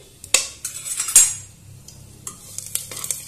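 Whole spices, a cracked cardamom pod, cloves and cinnamon, are stirred into chicken in a hot pan, with close metallic scrapes and clinks from the utensil over a soft sizzle, busiest early and then quieter.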